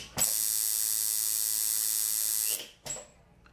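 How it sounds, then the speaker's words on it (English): An unloaded tattoo machine buzzes at a steady, high-pitched electric hum for about two and a half seconds, stops, then gives one brief restart burst; loud and close, no talk. "Now an unloaded machine is going to run differently than one that has the needle on it and everything set up."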